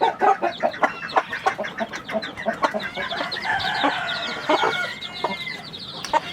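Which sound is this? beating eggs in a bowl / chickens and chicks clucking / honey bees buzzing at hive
chickens and chicks clucking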